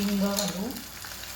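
Spice masala of chili, salt and goda masala frying in oil for a Rajasthani cauliflower sabzi, a steady close sizzle with a voice speaking briefly over it.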